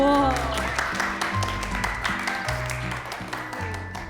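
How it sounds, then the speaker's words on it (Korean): An audience applauds a cooking opera singer on a broadcast program, giving a steady round of clapping that carries on beneath a speaking voice and some lingering musical tones. "박수 한 번 더 크게 해주실까요?"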